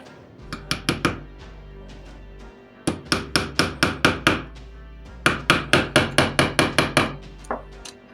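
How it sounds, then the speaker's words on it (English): Hammer blows drive pins into the wooden ribs and wales of a boat, in three rapid bursts of sharp, ringing strikes, near and loud, each burst of about five to nine evenly spaced hits. "hammering."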